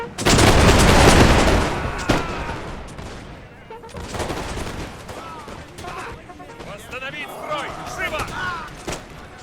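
Musket volleys crackle in a Master of Europe mod battle as a Freikorps unit fires into an enemy flank: a loud opening burst of massed shots, then scattered rolling volleys fading back, with someone talking throughout.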